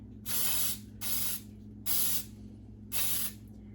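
Four short bursts of cooking spray onto a cake pan, close and hissing, evenly spaced with brief pauses between, over a low steady background hum.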